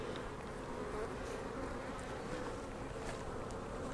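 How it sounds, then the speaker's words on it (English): Steady, dense buzzing of many honey bees close by around a hive, a continuous low hum with no pauses and no voices. "Lots of bees in here"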